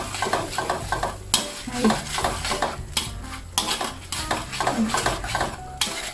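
Squid and salted egg yolk are stir-fried in a pan: a utensil scrapes and clanks rhythmically over a steady sizzle, close and fairly loud, with one brief spoken word.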